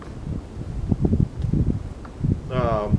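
Wind buffets the microphone in low, gusty rumbles, and a brief whining tone rises near the end.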